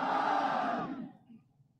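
Crowd at a Pakistan Muslim League (N) political rally in Nagar Khas, Gilgit-Baltistan, roaring a slogan in unison, a loud massed shout of voices that swells briefly and then fades out after about a second.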